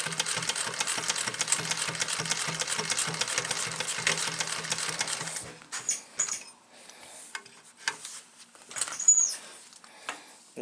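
A sewing machine stitching a seam runs with a steady, fast mechanical whir for about five seconds, then stops, leaving faint handling noises and small clicks.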